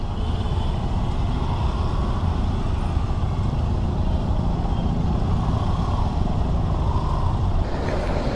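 Slow traffic on the Mumbai Goa highway, where lanes narrow near roadworks, produces a steady, dense roar of trucks and cars, continuous and fairly loud with no individual vehicle standing out.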